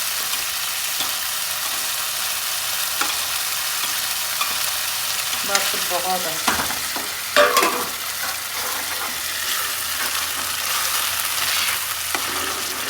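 Mustard greens sizzle and fry in hot mustard oil as they are tempered and stirred, with a continuous close crackle and scraping stirs. A brief spoken remark is heard partway through.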